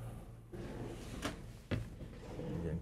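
Two quick soft knocks of a soft-close drawer sliding shut in a Newmar New Aire 3545 motorhome, the second a muted thud, over a low room hum with no voices.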